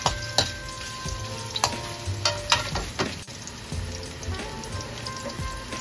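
Garlic and ginger frying in a pan, a continuous crackling sizzle with several sharp pops and stirring knocks throughout, no voices present.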